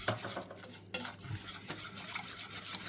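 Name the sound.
stirring flour and starch mixture in a pot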